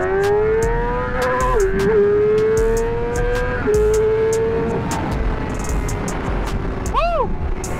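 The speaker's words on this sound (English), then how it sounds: "as you guys see, the bike is riding" A Honda CBR motorcycle is being ridden, its engine holding a loud, steady drone up close with small shifts in pitch and a brief rising rev near the end.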